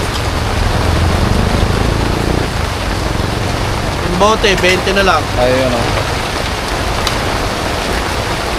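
Rain falling steadily over an outdoor market selling cheap bike parts, a broad continuous hiss that runs the whole time under a voice talking nearby.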